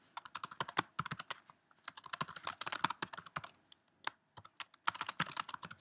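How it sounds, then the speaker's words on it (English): Quick, irregular typing on a computer keyboard, close and clear, with bursts of key clicks broken by short pauses and no talking. "we could type here, do you fancy buying a good quality"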